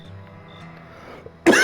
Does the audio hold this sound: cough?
yes